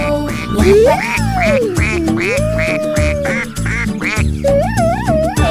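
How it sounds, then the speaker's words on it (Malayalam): Rhythmic cartoonish duck quacks repeat over the bouncy children's song Old MacDonald Had a Farm, with music and a melodic whistle-like line. "Quack quack here and a quack quack there."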